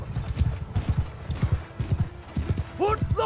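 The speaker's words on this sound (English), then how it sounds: "I heard those hoofbeats." Horse hoofbeats in Mount & Blade II: Bannerlord, a steady rapid clip-clop of galloping horses close by, with a brief whinny near the end and talk over the battle noise.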